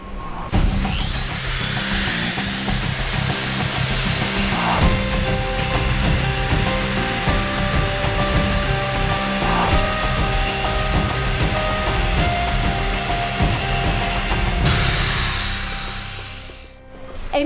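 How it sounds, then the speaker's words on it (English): A low-emission power tool on a construction site runs with its dust suction device, giving a loud, steady mechanical drone with grinding and sawing texture for most of the stretch, then easing off near the end. "Low-emission tools ensure that loosened dust particles are captured by the dust suction device."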